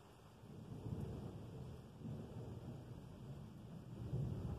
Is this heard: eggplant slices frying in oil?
no